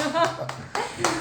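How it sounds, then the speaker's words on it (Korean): A handful of people at a Korean IT journalists' podcast recording clap briefly, producing a few sharp, close, separate claps over about a second. "박수 좀 부탁드리겠습니다"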